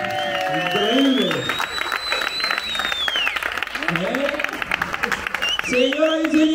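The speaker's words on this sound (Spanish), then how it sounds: "¡Aplausos para los dos!" Halloween party crowd clapping and cheering continuously, with whoops rising over the noise while a host's voice calls out loudly over the top at several points.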